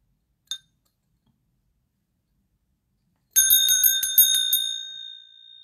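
A small metal bell kept in a handbag jingles briefly once, then after a pause rattles in a quick bright run of rings as the bag is shaken, close and clear, fading at the end.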